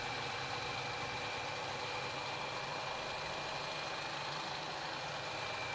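A 2019 Chevy 4500 Duramax diesel truck idles steadily, a constant low engine hum with a faint high whine running throughout, no talking.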